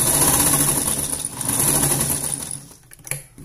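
A sewing machine stitches a blouse, running steadily for about two and a half seconds, then briefly reverses to backstitch before stopping, loud and close with no talk.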